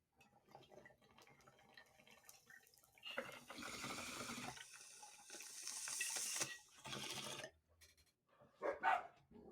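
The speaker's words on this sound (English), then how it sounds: "Goddamn dogs." Dogs bark in a few scattered bursts at moderate distance, mixed with rustling and running-water-like noise, with a louder cluster of barks near the end.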